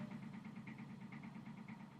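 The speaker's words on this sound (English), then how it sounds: "apparently my dryer was going off the fritz" A malfunctioning home clothes dryer running, giving a steady low hum with a rapid, regular rattling pulse on top, continuous and moderately quiet, with no talk over it.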